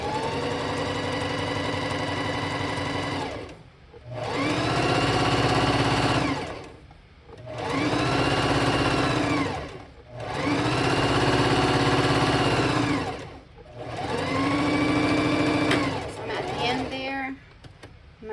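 A sewing machine stitches sashing onto English paper pieced appliqué blocks, running over the pins in four or five loud bursts of steady motor whir separated by short pauses.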